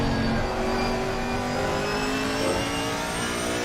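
A GT4 race car engine in a racing video game drones steadily and loudly throughout, holding a sustained mid-pitched roar with layered harmonics as the car accelerates.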